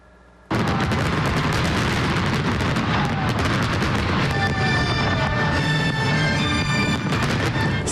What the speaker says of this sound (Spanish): Cientos de fuegos artificiales iluminaron el cielo en varias regiones en China anoche